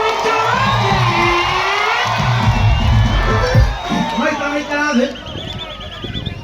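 A secondary school crowd at a live music performance shouts and cheers loudly and continuously, with excited children's voices, whoops and a speaker's voice amid the noise.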